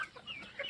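A Faverolles rooster clucks in a few short, nasal bursts close by, without talk.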